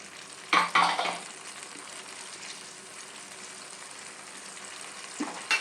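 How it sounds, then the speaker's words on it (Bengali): Fried potatoes go into a pan of sizzling masala with a sharp burst of frying and a clatter near the start, then settle into a steady low sizzle with occasional stirring scrapes. "এবার আমি এই আলু ভাজাটা দিয়ে দেবো এর ভিতর।"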